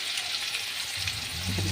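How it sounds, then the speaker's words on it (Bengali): Onions fry in a pan for a prawn and banana flower dish, a soft steady sizzle that swells slightly louder near the end, with no talking. "এবার এটা ভাজা করছে, পেঁয়াজটা ভাজা হোক"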